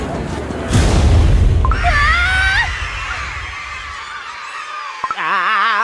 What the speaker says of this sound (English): Where did that scream come from?